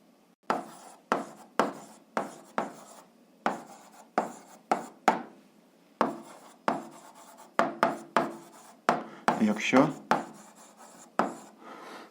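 A pen writes out an algebra solution on paper in short scratchy strokes, a dozen or more quick taps and scribbles in an uneven rhythm, close and fairly quiet.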